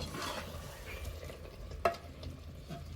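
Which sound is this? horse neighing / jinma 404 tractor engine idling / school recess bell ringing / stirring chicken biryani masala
stirring chicken biryani masala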